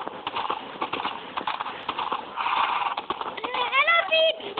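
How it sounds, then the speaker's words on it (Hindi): A horse gallops in a Minecraft-style video game, its rapid, steady clip-clop hoofbeats close and continuous, ending with a short whinny-like call, under a man's excited speech. "भाग भाग मेरे घोड़े भाग"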